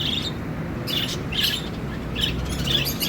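Caged birds chirp in a bird shop in Greece, with short, repeated bursts of high tweets and calls over a steady low room murmur.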